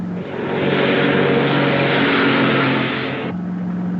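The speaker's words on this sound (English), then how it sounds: "a Royal Air Force plane is waiting for us at a secret landing place." Steady propeller-plane engine drone of a Royal Air Force aircraft, loud and continuous with a low harmonic hum, swelling slightly then easing toward the end.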